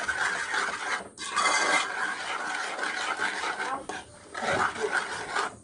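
A spoon scrapes and stirs through a pot of rice and beans as seasoning and minced garlic are mixed in. The rasping strokes come close and loud in uneven bursts, with short pauses between them.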